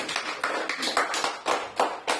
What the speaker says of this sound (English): please give a big round of applause, everyone